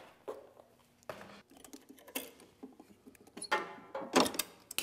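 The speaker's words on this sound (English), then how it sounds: "You'll cut your wire." A spool gun's aluminum welding wire being snipped during Eastwood welder maintenance: a few sharp clicks and short metallic bursts, close and irregular, some louder toward the end, with no talking.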